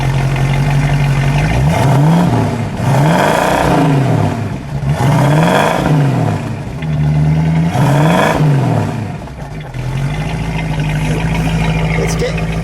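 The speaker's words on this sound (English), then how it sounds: "Go ahead, give that a rev." A 1970 Ford Shelby Mustang GT500 with a 428 Cobra Jet V8 is revved up repeatedly, each climb followed by a drop back to a loud, rumbling idle. The engine is close and dominant, with some talk underneath.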